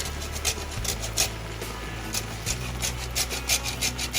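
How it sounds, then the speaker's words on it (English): Lemon rind rubbed over the finest side of a grater makes a steady scraping rasp with rhythmic strokes, close and moderately loud, with no voices. "We'll take the finest part of the grater and add the lemon rind into it"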